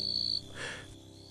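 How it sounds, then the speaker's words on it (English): A grasshopper gives a high, steady insect trill that sounds close and moderately loud, breaks off briefly, then resumes more faintly over a quiet outdoor background. "Grasshopper."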